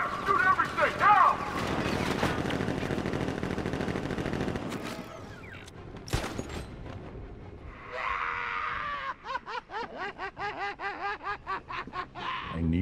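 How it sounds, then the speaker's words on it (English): Gunfire in the video game Batman: Arkham Knight, with dense loud shooting and combat noise that moves into a run of rapid rhythmic bursts. "Open fire! Shoot everything! Now!"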